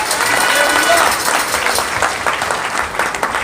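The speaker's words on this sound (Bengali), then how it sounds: "তো আরেকটি বার জোরসে করতালি হোক।" A church congregation applauds loudly and continuously, a close wash of many hands clapping with light cheering mixed in and easing slightly toward the end.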